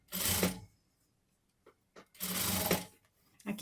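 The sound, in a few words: sewing machine stitching sweatshirt fabric with satin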